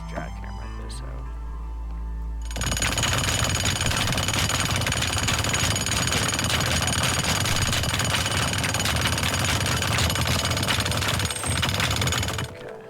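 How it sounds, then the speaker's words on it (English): In the Teardown video game, a jackhammer breaks through material with a loud, steady rattling roar that runs for about ten seconds, then cuts off abruptly. "I could probably just jackhammer this out"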